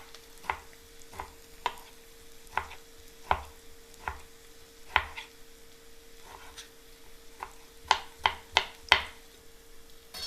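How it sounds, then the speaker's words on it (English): A knife chopping onions on a board, sharp separate knocks in an uneven rhythm, spaced out at first and then bunching into a quick cluster near the end, over a faint steady hum. "Just chop the onions whatever you want"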